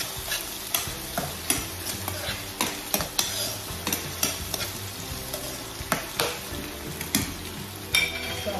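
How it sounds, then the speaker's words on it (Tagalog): Corned beef, Argentina brand, stirred in a pan with a spatula: repeated scraping strokes over a steady low sizzle of frying, close and fairly loud, with no voices. "So, haluin natin."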